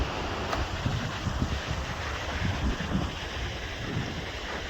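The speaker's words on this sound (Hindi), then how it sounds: "ठंडी ठंडी हवा चल रही है" Cold mountain wind near Kedarnath in Rudraprayag buffets the microphone in a steady, close, rushing roar with soft gusting pulses and no voices.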